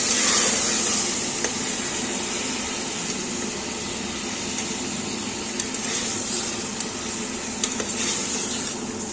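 Chopped tomatoes and ginger-garlic paste fry in a pan for tomato rice, a steady close sizzle hissing throughout with occasional light clicks of stirring and no speech.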